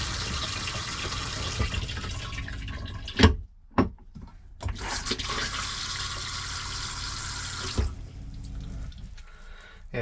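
Water rushes steadily into a campervan toilet being tested after resealing, a loud continuous filling hiss that cuts out briefly twice, then resumes and fades near the end.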